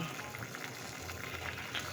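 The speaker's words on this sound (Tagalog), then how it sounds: "Kumukulo-kulo na po siya" A pot of fish stew (paksiw) simmers on the stove with a continuous bubbling, gurgling boil, close and steady throughout.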